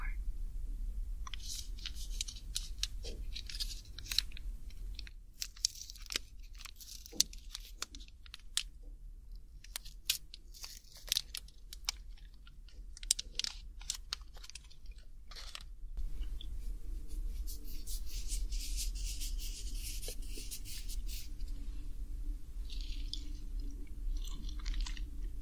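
Crunchy dark chocolate flavored snack eaten close up in an ASMR snack tasting, with irregular crisp bites and steady chewing, sometimes in quick bursts, and quieter stretches between them.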